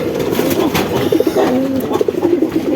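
Sirazi pigeons coo repeatedly in low, throaty rolling calls, close by, with a steady murmur of background noise throughout.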